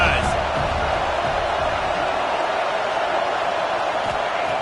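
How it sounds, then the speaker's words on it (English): Dense, steady roar of a packed college football stadium crowd, a broad continuous wash of voices holding level throughout with a brief sharper shout near the start. "This crowd going to try to make life miserable for these guys."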